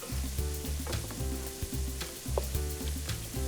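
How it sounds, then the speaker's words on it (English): Ground beef and lamb browning with onions in a pan, a steady close sizzle running throughout with repeated low scraping stirs in an uneven rhythm. "what I'm doing here is just browning the meat for about 8 to 10 minutes, along with the onions, just until it's cooked"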